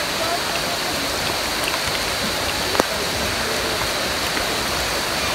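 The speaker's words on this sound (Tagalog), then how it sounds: "Malakas ang ulan." Heavy rain from a typhoon pours steadily in the Philippines, a close, even hiss of downpour with one brief knock partway through and no voices.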